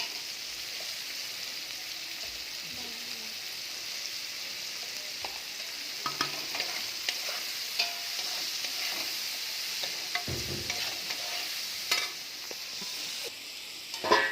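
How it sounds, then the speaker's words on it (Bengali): Oil hisses softly and steadily as bitter gourd fries, broken by occasional clinks and scrapes of a utensil stirring in the pan. "তো সেই পটলের তেলেই উচ্ছেটা ভেজে নিচ্ছি"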